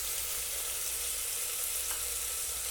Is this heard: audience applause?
no